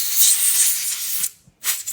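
Compressed air blown onto an AR rifle bolt gives a loud, close hissing blast that stops briefly, then starts again as a second burst.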